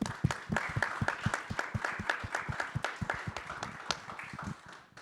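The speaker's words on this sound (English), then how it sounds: "let's give them a hand of applause." An audience at a conference event on energy citizenship claps, brisk irregular handclaps from a fair-sized crowd that hold steady and then fade toward the end, with no talk.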